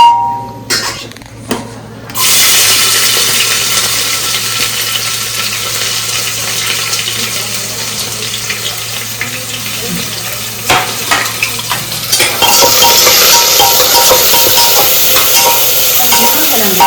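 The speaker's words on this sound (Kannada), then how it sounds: "ಈರುಳ್ಳಿ ಹಾಕ್ತಾ ಇದ್ದೀನಿ ಡೈರೆಕ್ಟು." Sliced onions hit hot oil in a pan for a Nati-style chicken biryani, starting with a few clatters of utensils, then a steady loud sizzle and frying hiss that swells again near the end as they are stirred.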